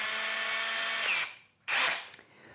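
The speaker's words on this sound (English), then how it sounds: "we are going to drill in the center of the wood as straight as possible a hole for the screw" A power drill with a 3mm wood bit bores a hole into the center of a wooden staff, a close whine that runs steadily, stops, then gives a second short burst before fading.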